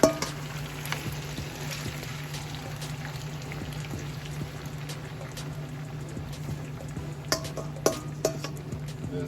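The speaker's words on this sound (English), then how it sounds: "You just want to let that simmer and cook down." Brown stew chicken with vegetables and veggie stock simmering in a pot: a steady, low bubbling hiss that runs throughout, with a few sharper pops and clinks near the end, close and without talk.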